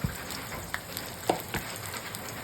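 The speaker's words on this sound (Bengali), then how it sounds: "এই যে ছোট লোহার কড়াই, এই যে ধিমি আছে ভাজা করছি।" Sliced bitter gourd and potato sizzle in a small iron wok on low heat, a steady crackling fry broken by a few soft stirring knocks.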